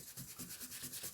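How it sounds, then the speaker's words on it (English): The edge of a vintage Pan paperback book is rubbed clean in short, soft, rhythmic strokes, quiet and close with no voices. "This is, I think, a better way of just actually cleaning the book"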